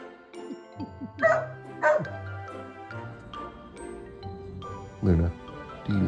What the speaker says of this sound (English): Is it your voice worn out from barking all day?